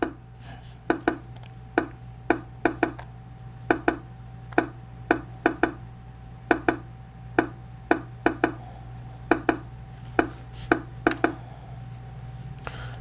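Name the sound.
thick kick drum sample in a beat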